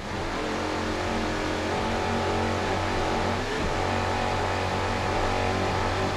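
Onboard a Nick Carter Racing powerboat at the 2002 Savannah Grand Prix, the racing engine roars in a loud, unbroken drone with a brief dip in pitch midway.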